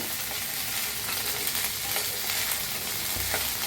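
Green chillies roasting in a little oil in a pan, a continuous bright sizzle with small crackles and pops, close and steady, no voices.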